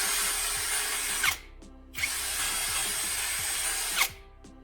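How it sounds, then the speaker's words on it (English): A cordless drill running on a recharged battery bores through steel in two long, loud, steady whirring bursts, each ending in a sharp spike and a short pause with faint ratcheting clicks between. "it drills clean through the steel with no hesitation."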